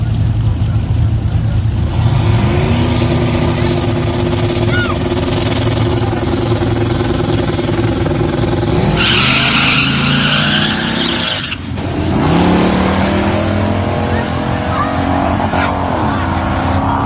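A drag-racing F-body Camaro on ET Street tires launches hard: loud tire squeal and roaring engine as the rear wheels spin, then the screech cuts out when the tires hook and the car pulls away. Close, continuous and very loud.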